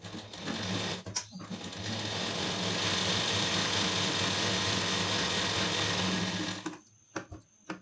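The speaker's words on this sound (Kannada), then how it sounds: "ಇದರ ಮೇಲೆ ಸ್ಟಿಚಿಂಗ್ ಮಾಡಬೇಕು. ಕಿನಾರಿ ಸ್ಟಿಚಿಂಗ್ ಹಾಕಬೇಕು." A sewing machine runs close by, stitching a kinari border onto a blouse lining piece. A few short stuttering bursts lead into a long, steady motor whir with a rapid needle beat, then it stops abruptly with brief clicks.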